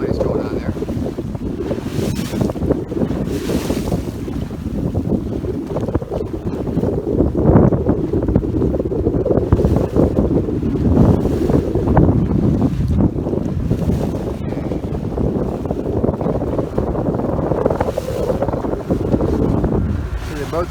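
Steady wind blasts across the microphone during a sailboat race, a continuous loud roar with gusting swells, mixed with water and boat noise and occasional talk.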